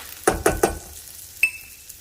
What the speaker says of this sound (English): I'm going to shake in my all-purpose flour.